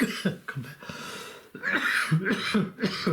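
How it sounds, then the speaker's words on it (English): A few close, harsh coughs and throat clearing from one person, coming in short bursts with breaths between. "Come back with a cough."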